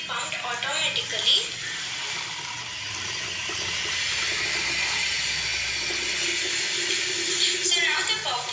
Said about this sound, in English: So now the water is pumped into the soil until the soil gains enough moisture